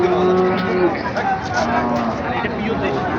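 Cattle mooing loudly amid a busy crowd at a cattle market, including a Sahiwal bull, with a long low call at the start and more lowing under background chatter.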